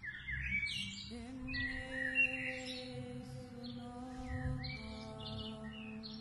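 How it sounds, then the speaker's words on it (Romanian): Small birds chirp in short, bright bursts scattered across about six seconds, set against a steady sustained tonal background and a soft low rumble. "Glasuri de păsărele."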